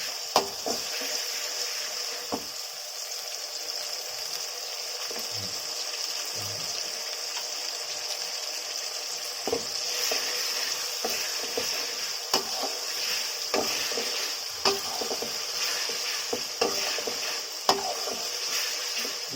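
Garlic and ginger paste, with onion, frying in a pan makes a steady, moderate sizzle and hiss throughout, broken by scattered stirring scrapes and light clinks from a spoon, with no talk.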